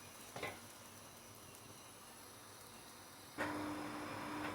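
Taş kadayıf batter sizzling softly as it fries on one side in a pan over medium heat, a faint steady hiss that jumps louder for the final second, with no talking.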